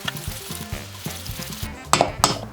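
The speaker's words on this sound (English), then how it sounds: "Now we're gonna stir all this together." A spoon stirs a crab cake mixture of sauces, ground mustard, MSG and Old Bay in a bowl, making wet rhythmic scraping, with louder clinks near the end and no talk.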